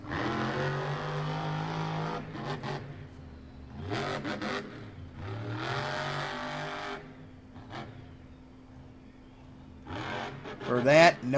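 Monster truck engine at a Monster Jam stadium event at Atlanta Motor Speedway, revving in several loud surges with a deep rumbling drone between bursts, while an announcer talks over it.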